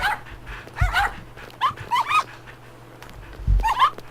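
A virtual puppy in the Nintendogs video game barks and yips in short bursts, several rapid calls in clusters with brief pauses, close and clear over a faint background hum.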